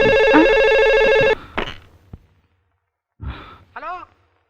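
A telephone ringtone sounds in a dramatic Malayalam film scene starring Mohanlal: a steady electronic ring, loud and close, that cuts off after just over a second. Short breathy vocal sounds and quiet movement follow, then a pause.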